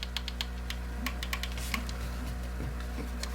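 Clicky buttons on Xbox-style Joy-Con controllers, a series of small sharp plastic clicks pressed one after another at an uneven pace, close and fairly quiet against a low steady hum.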